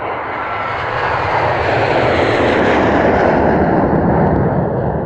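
An airplane passes overhead with a loud, broad roar that swells after the first second and holds steady to the end, with no talking.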